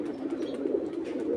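Pigeons let out of their loft, with males and females mingling, give soft throaty cooing close by, a continuous low murmur over the whole moment.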